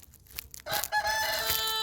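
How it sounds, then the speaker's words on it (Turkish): A chicken calls out loudly and close by, a drawn-out squawking cluck following some faint rustling, with no talking. "Tavuk ablalar gelir yer yoksa."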